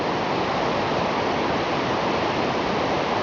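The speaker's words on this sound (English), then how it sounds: "That sound of rushing water." Rapids on the Suwannee River at Big Shoals State Park, a loud, continuous, dense roar of rushing water, close and unbroken, with no voices.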